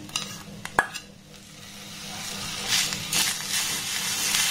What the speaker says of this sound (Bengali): গ্যাসের ফ্লেমটাকে একদম লো রেখে এবার এটাকে একটু ভালোভাবে নাড়াচাড়া করে নেব।